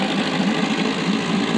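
A small Johnson Sea Horse 3 hp outboard motor runs steadily after a cord-pull start, giving a close, even, buzzing engine drone at constant loudness, with no voices.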